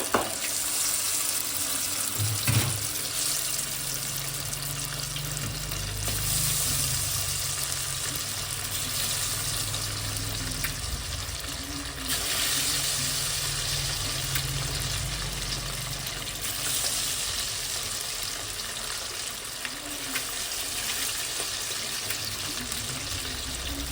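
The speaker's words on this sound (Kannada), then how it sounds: "ಬಿಡು ಕಬಾಬ, ಎಣ್ಣೆ ಒಳಗೆ ನೋಡೋಣ ಎಣ್ಣೆ ಕಾದಿತ್ತಾ ಇಲ್ವ" Kebab pieces frying in hot oil while cooking biryani, a steady broadband sizzle that continues unbroken throughout, close and moderately loud, with no talking.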